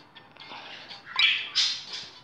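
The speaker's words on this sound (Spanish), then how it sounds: "estoy como siempre con mis pájaros y no paran de gritar" Pet birds squawk and screech in shrill bursts, growing louder toward the end, with no talking.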